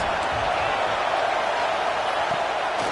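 A stadium crowd roars for the defense on a big third down in the red zone at a Texas A&M vs Alabama college football game, a dense, steady wall of cheering noise that stays loud throughout.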